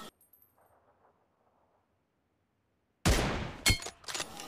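Gunshots in the battle royale game BGMI come as a sudden loud cluster of sharp cracks after several seconds of near silence, with a few distinct reports and ringing tails.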